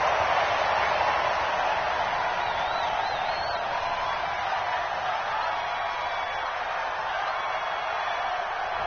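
A stadium home crowd in the Madden 20 football video game cheers and murmurs steadily for several seconds, a broad distant roar with no one talking over it.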